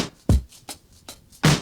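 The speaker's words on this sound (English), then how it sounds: "So in between these kicks and snares, we have a hi-hat," Drum mix playing kicks and snares with a hi-hat ticking between them: punchy low thumps alternate with lighter bright hits in a steady groove, heard alone and close.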